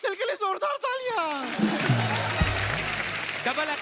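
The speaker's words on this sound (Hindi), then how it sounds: "ट्रिपल एक्सेल के लिए जोरदार तालियां।" A studio audience at a comedy show claps and cheers for a guest, the applause building under and after a man's excited speech and lingering with crowd chatter.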